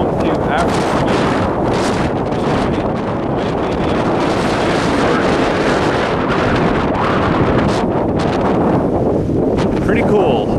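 Strong, cold wind in the eastern Lesotho highlands roars and buffets the microphone continuously, loud and close, with gusty rumbling and no break.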